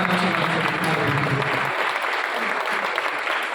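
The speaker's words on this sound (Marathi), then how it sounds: "एकदा जोरदार टाळ्या" An audience at a theatre event for the Hindi play Ghasiram Kotwal bursts into dense, loud applause that fills the room, thinning slightly toward the end, with no talk over it.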